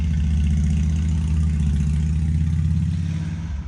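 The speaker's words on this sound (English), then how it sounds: "It's actually a really nice motorcycle." A motorcycle passes by outside an open window, its engine a loud steady low drone with audible revving that swells and then begins to fade toward the end.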